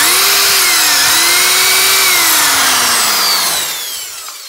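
A power drill whines steadily at high speed, its pitch sagging slightly as it bites into a pig feeding trough, then spinning down near the end.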